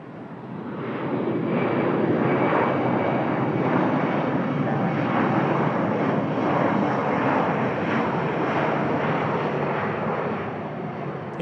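An airliner takes off from runway 20 left at a Bangkok airport on a departure to Dubai, its engines making a loud, steady roar that swells and holds for several seconds with no talking.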